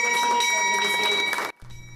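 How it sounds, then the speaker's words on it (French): A bell rings steadily with sustained bright tones inside a dedicated hall at the BRVM stock exchange for Global Money Week, loud and continuous, then cuts off abruptly to a quieter room hum. "Cette cloche qui sonne n'est pas celle d'une cotation"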